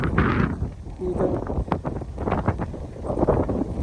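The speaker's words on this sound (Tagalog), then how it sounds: "Lakas ng hangin." Strong wind at a hilltop view deck in Tarlac, buffeting the microphone in heavy, uneven gusts with rustling, while a voice speaks over it.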